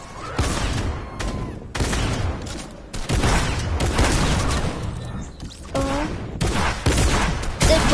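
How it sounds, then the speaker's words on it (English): Fortnite shotgun fire cracks out in several loud separate blasts amid a chaotic firefight, with short gaps between shots and bits of game effects, little talk. "Oh no, he got a shotgun."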